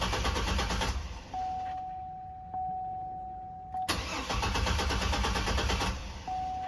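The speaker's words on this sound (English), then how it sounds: "all you do is just crank up the vehicle" A 2003 Chevrolet Trailblazer engine cranks and fires up, with a loud broadband rush that drops as a steady tone rings through a quieter middle stretch, then the engine surges back strongly near the end.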